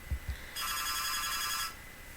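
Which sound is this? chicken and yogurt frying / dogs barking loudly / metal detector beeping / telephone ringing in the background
telephone ringing in the background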